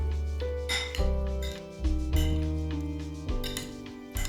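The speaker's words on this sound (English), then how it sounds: "Finish with a sprinkle of dried oregano and give it a good mix." Greek salad with olive oil, red wine or balsamic vinegar and dried oregano being tossed in a bowl: a handful of sharp clinks and knocks of utensils against the dish over a steady background of soft sustained tones.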